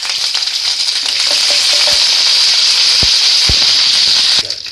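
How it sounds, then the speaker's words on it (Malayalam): Curry leaves and dried red chillies sizzle steadily in hot oil, a loud continuous frying hiss with a few sharp pops and crackles near the pan, no talking. "എണ്ണ ചൂടായിട്ടുണ്ട്. നമുക്കതിന് ശേഷം കറിവേപ്പിലയും രണ്ട് വറ്റൽമുളകും ഇട്ട്"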